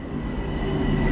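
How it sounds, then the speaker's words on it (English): A Harlem Line train, M3A MTA stock in Train Sim World 6, rumbles steadily as it pulls in close by, a dense low roar that builds slightly and holds with no break. "Oh, there's a train pulled in behind me."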